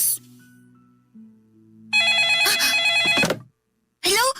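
A telephone rings with a loud bright electronic trill after quiet tones, cuts off, then a brief second burst follows, with a voice faintly present.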